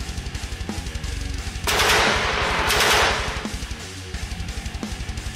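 Heavy machine gun fire in a Gaslands tabletop car-combat game, a loud, dense burst of rapid shots lasting about a second and a half, set against a steady rhythmic mechanical pulse.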